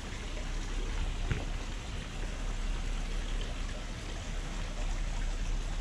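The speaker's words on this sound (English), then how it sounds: "The waterfall, always nice." Waterfall on a walk through Sydney, a steady rushing splash of falling water that holds evenly throughout at moderate volume, with no talk.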